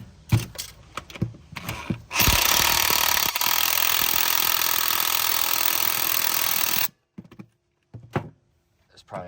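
An impact wrench hammers a 7/8 nut on a Polaris Ranger 700/800 starter clutch in one loud, sustained burst of rattling blows of about five seconds, with brief clanks and handling noises before and after.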